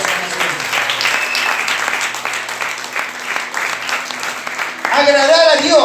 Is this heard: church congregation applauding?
yes